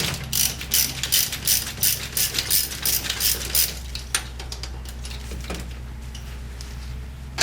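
A ratchet loosening four 12mm transmission bolts on a Mazda 626, heard up close as bursts of rapid clicking over the first few seconds, then fainter, sparser clicks while the bolts come free.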